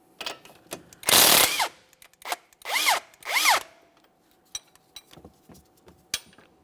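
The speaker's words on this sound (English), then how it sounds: "Got my 17mm wrench." A 17mm wrench works a strut mounting bolt on a 2014-2018 Mazda 3 front suspension. Short bursts of whirring, ratcheting metal come up close, separated by quiet gaps and light clicks.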